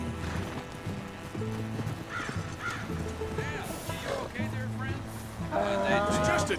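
A donkey brays in hoarse, rising and falling honks, mixed with hoof clops and other farmyard animal noise, with a voice in the background.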